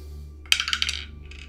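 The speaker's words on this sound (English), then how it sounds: "we'll re-roll one dice for rabbit's foot" Dice in an Arkham Horror 3rd Edition board game session clatter onto a hard surface in a quick burst of several sharp rattling clicks that fade over about a second, close and fairly loud against a quiet hum.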